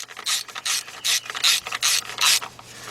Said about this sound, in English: Tighten those bolts up.